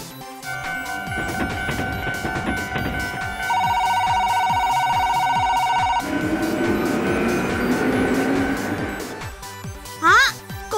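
A Plarail toy train playing its commuter express mode sound effects, with chiming electronic tones, a steady beeping melody and rolling rail noise, while a voice talks over it fairly loudly.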